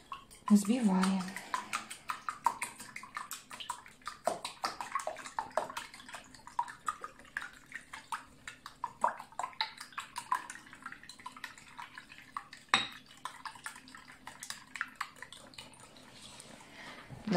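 Eggs for waffle batter are beaten with a whisk in a bowl, a fast, steady stream of light wet clicks and scrapes, close and continuous, with a brief voice near the start.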